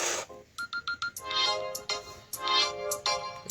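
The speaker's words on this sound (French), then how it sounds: "J'espère que c'est le numéro de téléphone que j'attends." A telephone ringtone sounds up close, opening with a run of short, evenly spaced beeps before shifting into longer, fuller ringing phrases, with no voices.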